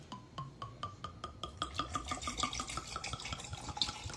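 Liquid poured into a container gives a rhythmic glugging pulse of rapid repeated plops whose pitch shifts as it fills, faint and close, with no talking.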